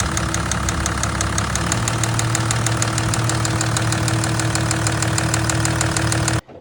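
A diesel engine idles with a steady drone and a fast, even metallic ticking running through it, loud and close, until it cuts off abruptly near the end.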